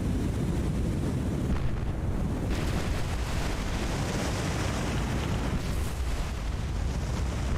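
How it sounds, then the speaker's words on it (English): Torpedoes launched from a warship in the naval game War on the Sea, heard amid a constant loud roar of blasts and rumbling gunfire with no pauses. "Drayton, fire those torpedoes."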